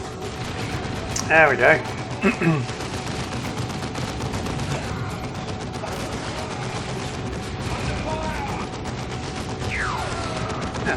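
Plasma and bolter fire in the Warhammer 40,000 strategy game Dawn of War 2: Retribution, a dense continuous battle din of rapid shots and impacts. Someone talks briefly over it, and a few sharper bursts stand out near the start.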